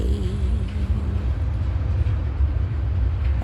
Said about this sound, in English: And the train is still going.